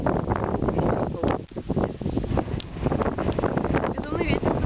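Cold, gusty wind buffets the microphone on a war-damaged residential street in Donetsk, Ukraine, a constant loud roaring rumble with brief dips, and a voice is heard faintly at moments.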